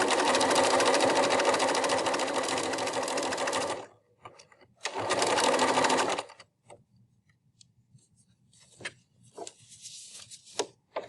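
A sewing machine stitching a face mask seam runs in two bursts, a long steady whir and then a shorter one, followed by quiet handling clicks and taps, close up with no talk.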